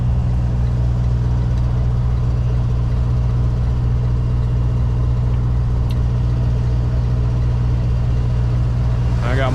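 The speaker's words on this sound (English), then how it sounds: "I got more cars coming up." Traffic on a road heard from inside a moving car, with a loud steady engine rumble and road noise throughout and a brief swish near the end as another vehicle passes.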